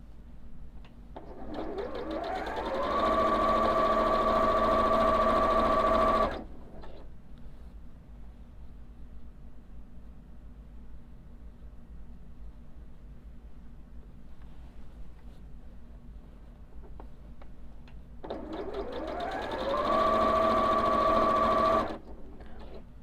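Sewing machine stitching a quilt top across a nested seam, with two whirring runs that spin up to a steady hum, separated by a long quiet pause.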